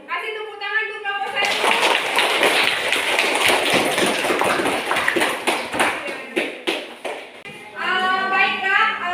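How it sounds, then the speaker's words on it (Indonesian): A classroom of students gives group 1 a round of applause after an English presentation, a dense burst of close clapping lasting several seconds, framed by a teacher's voice before and after. "Kasih tepuk tangan untuk kelompok"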